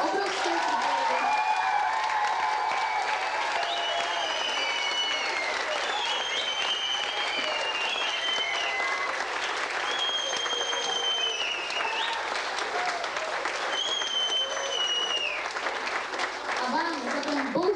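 A school audience applauds enthusiastically after a music workshop at the end of the school year, with dense, steady clapping that holds without a break for nearly eighteen seconds.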